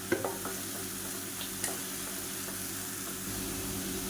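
Mint and coriander paste sautéing in hot oil for an egg dish, a soft continuous sizzle with a few light clinks and scrapes of stirring, fairly quiet and close.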